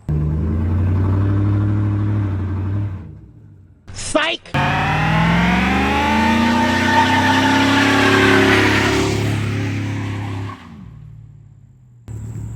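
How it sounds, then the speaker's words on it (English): A lowered Chevrolet Silverado pickup on 24-inch wheels doing a burnout, its engine droning and then revving hard in a long rising pull that spins one tire before cutting off; someone speaks briefly near the start. "and they do good burnouts."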